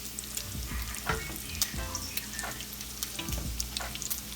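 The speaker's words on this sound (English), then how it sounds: "So I'm stirring my grits again." Grits being stirred in a cast iron skillet, soft bubbling sizzle under repeated scraping strokes of a utensil against the iron, close and steady with no talking.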